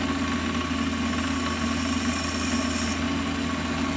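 Warco lathe chamfering, lightly breaking the edge of an expanding mandrel part: a continuous steady motor drone and hum with a faint cutting hiss layered on top, constant and close, with no talking.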